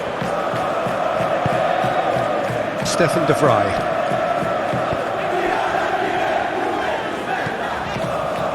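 A stadium crowd in PES 2021, at the Inter vs Milan Coppa Italia semifinal second leg, keeps up a steady roaring cheer beneath a commentator's voice, with a brief swell in the middle.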